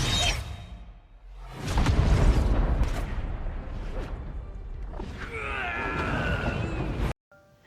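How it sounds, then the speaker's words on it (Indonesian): A big explosion in the fantasy battle film League of Gods destroys the area, heard as rushing whooshes and booming rumble, followed by a bright ringing, debris-like swell near the end that cuts off abruptly. "Namun sebuah ledakan besar terjadi dan menghancurkan seluruh area di tempat ini."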